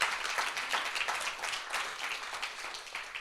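A church congregation claps steadily together, a dense sustained wave of applause filling the room, loud and close, with no talking over it.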